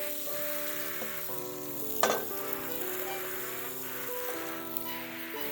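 Rice and scrambled egg stir-frying for nasi goreng, a steady close sizzle with scraping stirs and one sharp clank of a utensil against the pan partway through.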